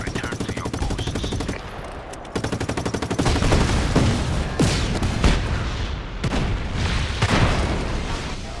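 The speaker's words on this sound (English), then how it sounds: "That's an explosion." Explosions and gunfire in The Division video game, a dense, loud barrage of rapid shots and heavy booms that continues without a break, with a faint voice beneath the noise.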